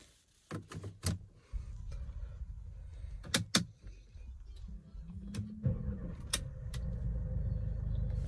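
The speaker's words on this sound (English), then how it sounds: "So now let's start the car with the door closed." A 2014 Mercedes-Benz B200 CDI diesel starts from inside the cabin with the door closed, preceded by key and switch clicks, then cranks and settles into a steady low idle rumble.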